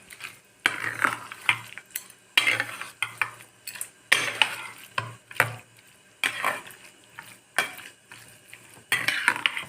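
Curd being mixed into kudhiraivali millet rice by hand, with wet squelching and squishing in bursts and a few light clinks against a vessel, close and fairly quiet.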